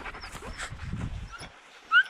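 Sled dogs on a dog-sledding trip whimper, yip and pant close by in short, uneven bursts, with no one talking.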